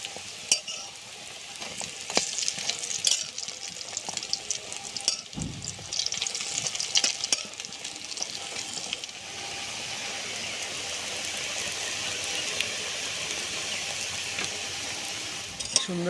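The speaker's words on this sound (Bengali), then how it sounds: "আর এগুলো কিন্তু ফুলে যাচ্ছে ভাজতে ভাজতে" Masoor dal and egg fritters fry in a kadai with a continuous crackling sizzle, broken by occasional clinks and scrapes of a utensil turning them, close and moderately loud.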